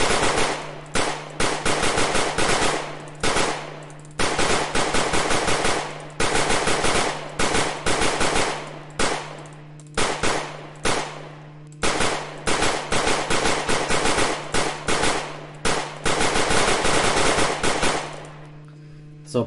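Rapid machine-gun fire in the Zombiehaus video game sprays into a crowd of zombies, heard as repeated sharp bursts separated by brief gaps, loud and close.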